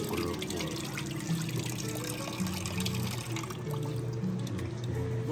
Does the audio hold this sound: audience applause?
no